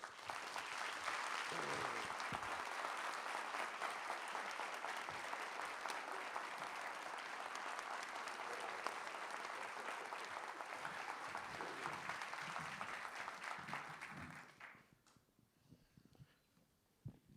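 A debate audience in Brasília applauds a guest, sustained dense clapping for about fourteen seconds before fading to scattered claps and quiet murmur.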